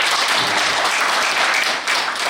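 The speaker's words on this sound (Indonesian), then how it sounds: "Tepuk tangan boleh?" Studio audience applause, a dense, even burst of clapping filling the space at close range, sustained throughout with a brief dip near the end.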